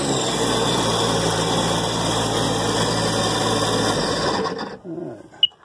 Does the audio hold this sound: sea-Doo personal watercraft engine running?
yes